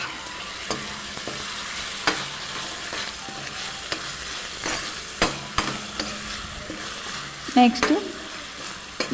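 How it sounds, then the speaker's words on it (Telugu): Soaked chana dal fries in a pan with chopped ridge gourd pieces, a steady close sizzle under scraping stirs and occasional spoon knocks, with someone briefly speaking over it. "శనగపప్పు ఒక 3 స్పూన్స్ నానబెట్టానండి. అవి ఇంకా వేస్తాను. వేసేసి అది ఒక 5 మినిట్స్ అలా వేయించేసి"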